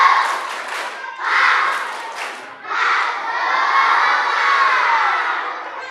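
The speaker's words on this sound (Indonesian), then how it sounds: "Coba kasih yel-yel kawan yang tepuk semangat dulu." At an Isra' Mi'raj gathering, a group of children shouts a rhythmic spirit chant, a 'tepuk semangat' clapping yell, in loud, energetic bursts. Short phrases break off and then lead into a longer sustained cheer, with the clapping barely distinct under the voices.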